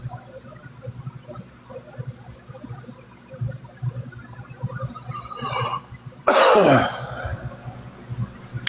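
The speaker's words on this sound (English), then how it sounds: "sorry about the coughing" Soft background murmur, then a sharp, loud cough bursts out close to the microphone, followed by a brief throat-clearing rasp.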